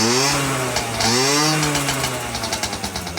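A Garelli SSXL NOI moped with a brand-new motor and an inexpensive, untuned Amazon carburetor idles close up, a steady buzzing two-stroke drone whose pitch dips and rises once before settling into a pulsing, slightly uneven idle.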